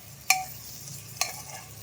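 Tomatoes sauté with salt in a pan while a spoon stirs them, giving two crisp scraping clicks over a soft, steady background sizzle.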